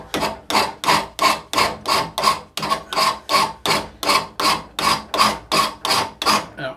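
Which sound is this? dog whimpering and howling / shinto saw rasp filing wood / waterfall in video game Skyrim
shinto saw rasp filing wood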